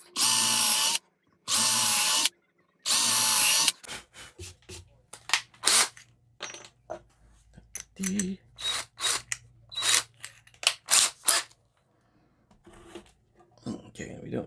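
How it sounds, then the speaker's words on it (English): A power drill pre-drills holes in wood: three loud, steady whirring bursts of about a second each, close up, followed by quieter handling noises and a voice talking. "so I'm going to pre-drill."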